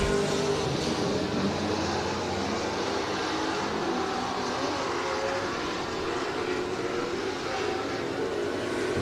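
Stock race cars roar around the Hibbing Speedway track during a weekly race, a continuous distant rumble of engines blending with crowd and ambient noise.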